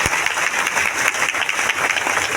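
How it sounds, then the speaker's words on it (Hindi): An audience at a DXN mega event in Latehar, Jharkhand, claps loudly for their guru, a dense, steady burst of many hands applauding together throughout. "तो एक जोरदार ताली आपके अपने गुरु के लिए।"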